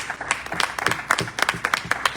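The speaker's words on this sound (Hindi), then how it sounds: "आपके लिए ताली बजनी चाहिए" Applause from an audience at a training seminar in Kolkata, a brisk run of claps with uneven rhythm at moderate level, no voices over it.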